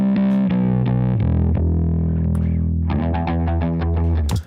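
A riff played through distortion and chorus effects, with a run of sustained, harmonically rich notes, a held swell in the middle, and then a quick series of punchy repeated notes, loud and alone.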